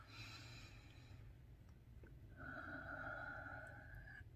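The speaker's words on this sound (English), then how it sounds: "we're going to take some deep breaths" Two slow, deep breaths, a long airy exhale and then a longer inhale with a slight nasal whistle, close and quiet, with no talking.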